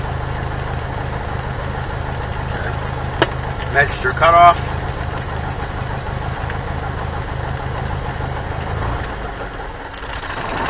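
A small training airplane's piston engine idles with a steady low drone before shutdown, and brief speech comes through partway along.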